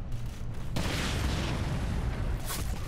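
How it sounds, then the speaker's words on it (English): A grenade detonates in the Ghost Recon Phantoms shooter game, giving a loud, rumbling burst that swells into a sustained roar of debris and low boom lasting several seconds, with no talk over it. "Oh, that's a grenade."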